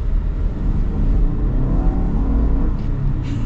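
A turbocharged engine in a Subaru Outback Onyx XT builds revs steadily, a loud, close rumble swelling over several seconds with no talking over it.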